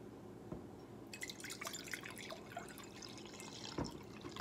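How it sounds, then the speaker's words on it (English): Vinegar pours into a jar for a bones-in-vinegar experiment, a faint close trickle of liquid with a couple of soft drips and small clinks. "I can open up my jar with a lid on it, and I'm going to put in some vinegar."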